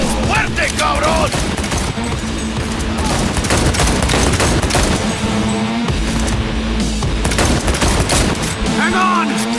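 Dense, continuous gunfire in the video game Cyberpunk 2077 rattles throughout as rapid automatic bursts, loud and close, with shouted voices and music mixed in.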